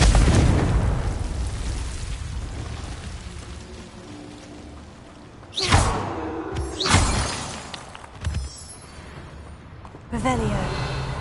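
Spell-cast explosions from the Confringo curse in Hogwarts Legacy: several sharp bursts with crackling, shattering tails, arriving in quick succession over a steady rushing background, with a voice speaking briefly.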